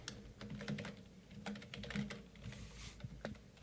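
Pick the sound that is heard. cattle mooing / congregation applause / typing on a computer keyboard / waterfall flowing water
typing on a computer keyboard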